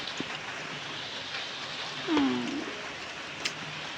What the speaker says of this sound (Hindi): बहुत मस्त वाली बारिश लगी है